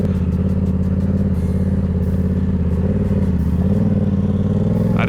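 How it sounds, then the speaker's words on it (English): A steady, loud engine drone with a low rumble and buzzy overtones carries through, consistent with a nearby dirt bike running at fairly even revs, no talking over it. "This man's on a dirt bike over here."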